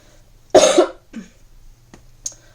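A single harsh cough bursts out close by, followed by a couple of softer throaty sounds and a small click, then quiet.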